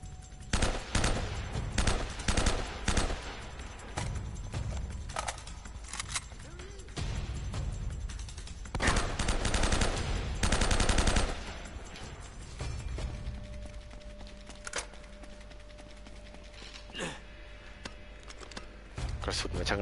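Gunfire from an M4 rifle in Uncharted: Drake's Fortune, repeated bursts of shots clattering over a busy game battle with mechanical clicks, loud and close throughout, someone talking over the action.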